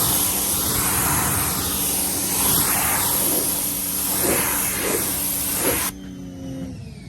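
A pressure washer rinses soap off a car panel, producing a continuous loud hissing spray up close with slow swelling sweeps as the wand moves, stopping abruptly near the end.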